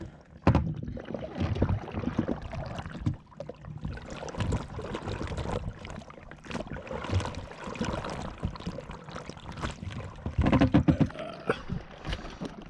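A small dinghy being rowed on calm water near a beach, with the steady knock and creak of oars and gentle splashes repeating close by.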